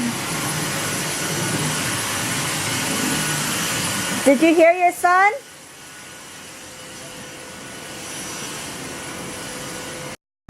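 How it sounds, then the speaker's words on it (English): A Dyson vacuum cleaner drones steadily as a broad whooshing hum in a home, with a brief voice speaking over it midway before the noise drops to a quieter hum and then cuts off. "I think he's just vacuuming."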